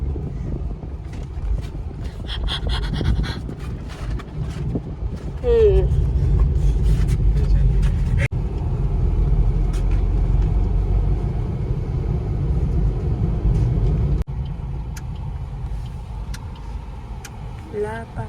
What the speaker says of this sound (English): I'm finally in the car.